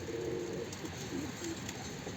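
Soft, low cooing from tumbler pigeons, a few murmuring calls over a steady background hiss.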